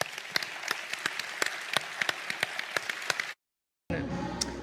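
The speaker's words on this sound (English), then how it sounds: "please join us in a round of applause" Sustained audience applause at the BBC Food and Farming Awards ceremony, dense clapping with sharp individual claps standing out, cutting off abruptly and then resuming briefly.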